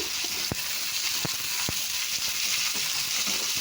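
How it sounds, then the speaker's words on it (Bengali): Onions sizzle steadily in hot fish oil, a constant bright frying hiss with a few sharp crackles and pops standing out near the start. "ওই তেলের মধ্যেই দিয়ে পেঁয়াজ দিয়ে দেওয়া হচ্ছে।"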